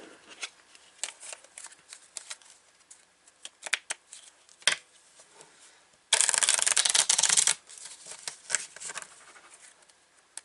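Avalon tarot cards being shuffled by hand: scattered soft card flicks and rubs, then a dense, loud riffle burst of about a second and a half in the middle, followed by lighter handling sounds, with no talking.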